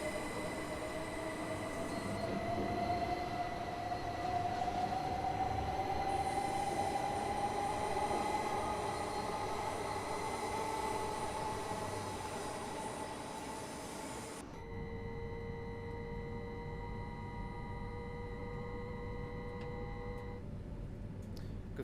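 Sound-modded class 165 train in Train Sim World 6 accelerating with a rising motor whine over a steady rail rumble, then cutting to a quieter interior hum with steady tones partway through, no voices.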